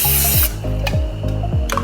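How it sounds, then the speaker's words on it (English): Cooking spray hisses onto a cake pan in short bursts, close and loud, with a brief pause between sprays as the pan is coated. "I'm just going to take some ham spray, just regular cooking spray, coat the pan so that it's greased"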